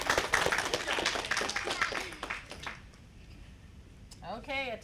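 Applause and clapping from an audience at a school spelling bee, a dense burst for a contestant that fades after a few seconds, followed by a brief high-pitched squeak near the end.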